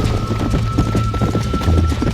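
Horse galloping in the Red Dead Redemption video game, with rapid rhythmic hoofbeats pounding close and loud over a steady bed of game sound.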